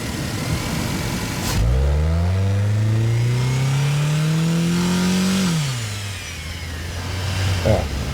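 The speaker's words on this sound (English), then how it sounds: "you can really hear the belt on my engine go when you get the revs going up" A car engine revs up, holds a rising high-pitched belt whine for several seconds, then drops back toward idle.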